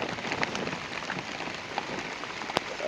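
Steady rain falls on surfaces during a monsoon journey in Mahad, a dense even patter with occasional louder drips, close and continuous, with no talking.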